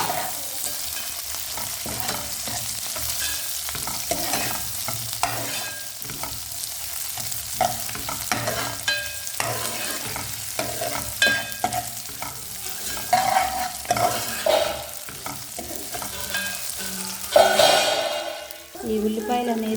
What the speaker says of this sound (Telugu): ఎండుమిర్చి, కరివేపాకు, వీటన్నిటిని ఒకసారి అయితే కలుపుకుందాము